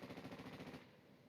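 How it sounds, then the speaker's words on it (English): Rapid automatic gunfire crackles in a steady rattling burst for most of a second, then cuts off into quieter background noise; moderately loud with no talk. "Automatic gunfire?"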